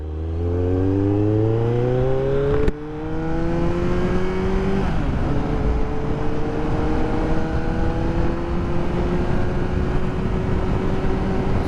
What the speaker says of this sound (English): Oh, he's gunning it.